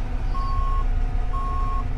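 A bus backing slowly into a car park sounds two steady reversing beeps, evenly spaced and clear, over a low rumbling engine.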